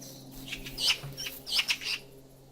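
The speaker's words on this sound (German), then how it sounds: "da hat eine Amsel geschimpft" Blackbird giving a scolding call in the game theHunter: Call of the Wild, a rapid series of sharp, chattering chirps in two bursts, moderately near, over a faint steady low hum.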